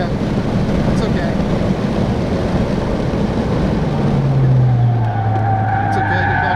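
A Ford Focus ST is driven hard on the race track at Autobahn Joliet, Illinois, with loud, constant engine and wind roar inside the car, tires scrubbing through a turn and a rising engine note near the end.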